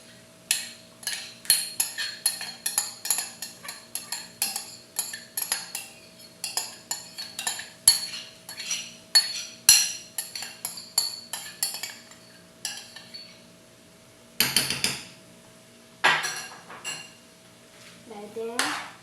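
A spoon scrapes and clinks against a dish while keema biryani is mixed, a close run of quick metallic taps, then a pause and a few more clatters near the end.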